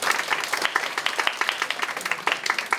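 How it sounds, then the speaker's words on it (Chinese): Audience applause at a joint winter-training concert of the Jinshan and Xinzhuang high school wind bands, a dense, steady clapping of many hands filling the room without speech. "然后我们一起来热情的掌声"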